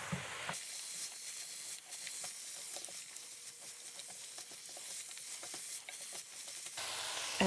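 Cabbage and mixed vegetables sizzle and fry steadily in a hot pan, a close, continuous hiss with faint stirring scrapes and no voices.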